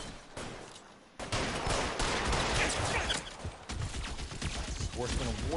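Machine gun fire in LA Noire rattles in loud, dense continuous bursts with brief gaps, close and harsh, while people talk over it.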